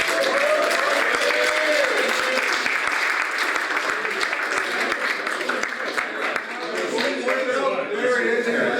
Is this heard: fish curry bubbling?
no